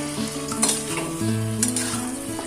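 Chicken pieces seasoned with salt and turmeric sizzle and fry in a pan while being stirred, a steady close hiss with a few scraping stirs and light clinks of the utensil, no voices.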